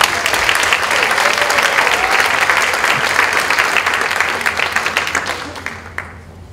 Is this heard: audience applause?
yes